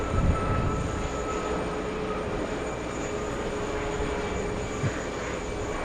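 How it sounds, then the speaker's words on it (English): An American Airlines Boeing 737 takes off from runway 4 Left at JFK airport, a steady broad jet roar holding at a distant, even level for several seconds with no voices. "another 737, American Airlines taking off on 4 left"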